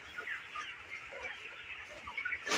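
Broiler chickens about 24 days old clucking in a steady, busy chorus of overlapping calls, fairly close, with no talking.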